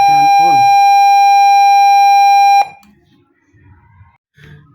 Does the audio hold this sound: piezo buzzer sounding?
yes